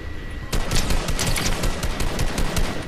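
Dense, continuous gunfire from a Fortnite match, rapid overlapping shots at steady loudness starting abruptly after a brief quieter moment and continuing without pause.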